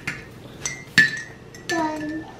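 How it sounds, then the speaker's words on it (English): A spoon clinks against the inside of a cup of hot cocoa, several bright ringing taps spaced unevenly, close by with a voice speaking softly in the background. "now stir it up real good with your spoon"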